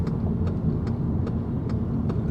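Rebuilt VW Golf GTI engine running while driving, a steady low hum and road rumble throughout with a few faint ticks, no talking.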